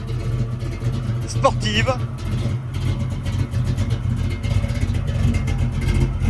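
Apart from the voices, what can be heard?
1967 Ford Mustang Fastback engine running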